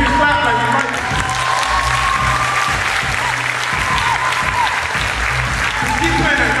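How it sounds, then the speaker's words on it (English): Loud, sustained audience clapping at a live concert, continuous and close, with music playing underneath throughout. "You can clap like you like."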